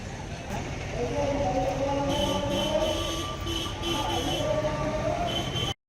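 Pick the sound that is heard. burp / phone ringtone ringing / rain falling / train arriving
train arriving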